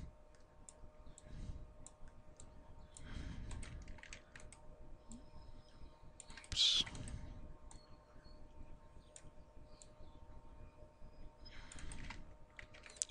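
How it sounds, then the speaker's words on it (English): Computer keyboard keys pressed while editing vertices in 3D modeling software, giving faint, scattered clicks and taps in small irregular clusters over a quiet room hum. "Hit V on your keyboard for vertexing and just drag however you want it."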